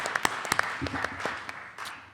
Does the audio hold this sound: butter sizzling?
no